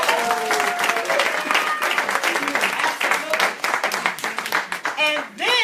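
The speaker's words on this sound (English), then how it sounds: "Can we give her another round of applause?" An audience gives a steady, loud round of applause at a training event. Voices and cheers rise over the clapping near the end.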